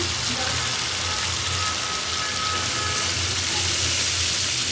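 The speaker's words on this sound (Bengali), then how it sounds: "জল দিয়ে দিচ্ছি" Water poured into a hot pan of hilsa fish curry makes a loud, continuous broadband rush and sizzle, close and steady for several seconds with no talk over it.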